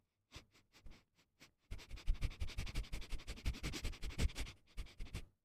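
A man imitates an animal sniffing with his own voice: a few separate quick sniffs, then a fast run of rhythmic, close-up sniffing that ends with several more short sniffs.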